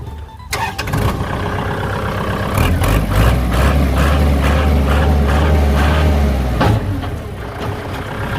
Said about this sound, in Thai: เดี๋ยวเราลอง สตาร์ทเครื่องยนต์ลองขับดูนะครับ